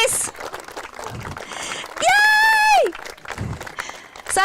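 Wedding guests clap and cheer for the newlyweds just after they are declared husband and wife, a steady patter of applause with a high, sustained whoop rising over the crowd midway.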